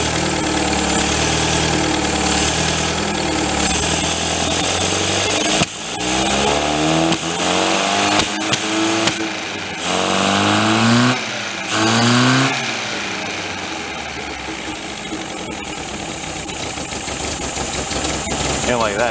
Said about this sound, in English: you're supposed to be able to rev it and you're supposed to watch how they pull